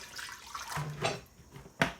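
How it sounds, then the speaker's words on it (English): Filtered water is poured into a pan of vinegar and cinnamon sticks for sweet and sour watermelon rind pickles, giving a few splashing gurgles and spurts with brief pauses, close by and moderately loud. "To that, I'm adding an equal amount of filtered water."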